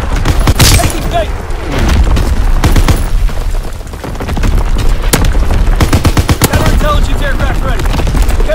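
Artillery battery firing in a video game, loud repeated booming shots and rapid gunfire bursts in quick succession, with radio-style voices speaking over the barrage.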